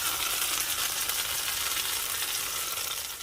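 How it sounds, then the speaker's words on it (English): Pambazo sandwich frying in a little cooking oil on a preheated griddle, a steady dense sizzle with soft crackles running without a break, close and even throughout, no voices. "right onto a preheated griddle with a little bit of cooking oil. I'm gonna turn that on low. It's gonna pop everywhere."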